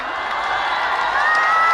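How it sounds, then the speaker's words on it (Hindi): A big audience at a stage event claps and cheers, a dense, sustained wash of applause with whoops rising slightly toward the end, loud and close throughout. "जोरदार तालियां।"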